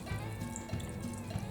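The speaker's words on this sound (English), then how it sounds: "Put some more fresh soapy water on it." Soapy water splashes and trickles over a dry-rotted, leaking tire, a quiet steady wet pouring sound with faint dripping throughout.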